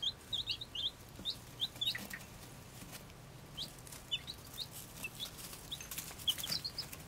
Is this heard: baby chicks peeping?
yes